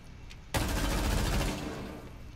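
Sustained burst of gunfire in Rainbow Six Siege on the Kafe Dostoyevsky map, starting abruptly and rattling on loud and dense for nearly two seconds before tapering slightly.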